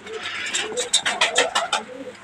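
Domestic racing pigeons coo in a loft, a close series of soft, rhythmic throaty coos rising in quick succession, with faint voices nearby.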